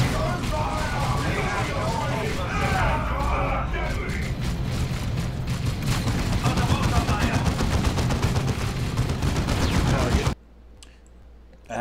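A Dawn of War II battle on PC is full of dense, continuous gunfire, rapid automatic bursts and shots piling over one another, with voices talking throughout, then the noise cuts off sharply near the end.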